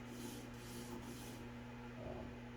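A Tops Wild Pig Hunter fixed-blade knife is drawn across a sharpening stone on a Tsprof K03 Pro Hunter sharpener, producing a soft, continuous abrasive rasp of repeated strokes with a steady low hum behind it.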